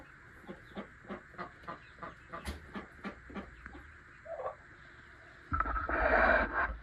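Farm turkeys calling in a steady series of short, evenly spaced cries, fairly close, followed by a burst of loud rustling and handling noise at the end.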